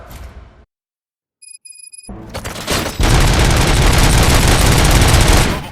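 Gunfire in the video game RoboCop Rogue City: after a brief silence with faint tones, a dense, loud fusillade of rapid machine-gun shots and booms builds and continues without pause, close and intense, with no voices.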